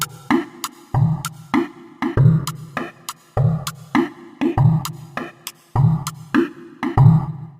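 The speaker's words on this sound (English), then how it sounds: "Final drum kit sounds like this." A drum pattern built from video game sounds: punchy low kicks and bright, sharp clicky hits repeating in a steady looping beat, with added reverb.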